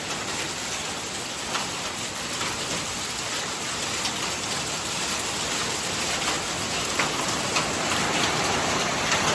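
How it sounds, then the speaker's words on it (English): Hail falls steadily as a dense, even patter of small impacts across a broad hiss, with occasional sharper ticks standing out, continuous for the whole stretch and with no voices. "It's hailing."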